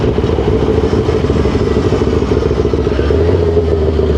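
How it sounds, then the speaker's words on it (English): A retro Kawasaki Ninja ZX6R motorcycle rides through traffic, its engine a loud, steady, close mid-pitched drone with a slight clatter and no voices. "Perks about having a motorcycle is that you could just cut traffic, bro."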